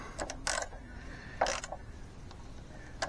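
A bolt is wrenched tight on a Honda Goldwing 1500 front brake, giving short, close mechanical ratcheting and creaking bursts separated by quieter pauses, with a final brief click.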